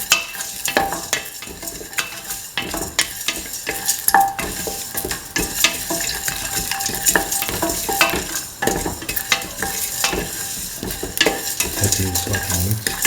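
Ginger and garlic with salt are stirred in a frying pan with a utensil, scraping and clinking over a continuous sizzle.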